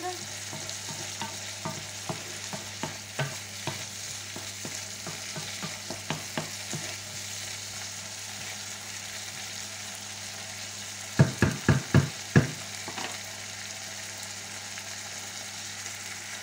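Rice with lardons sautéing in a pan gives a steady close sizzle with regular soft spoon taps, then a quick cluster of louder scraping clacks near the end.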